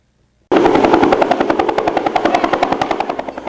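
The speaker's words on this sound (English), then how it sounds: "The sounds of a helicopter rescuing neighbors" A helicopter hovers near during a flood rescue along the swollen Susquehanna River, its rotor chopping in a fast, steady thudding pulse that starts abruptly and stays loud throughout.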